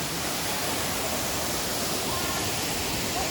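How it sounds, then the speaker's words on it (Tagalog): Waterfall at Agbalala Falls in Abradillo, a steady broadband rush of falling water filling the scene without a break, loud and close. "Agbalala Falls in Abradillo"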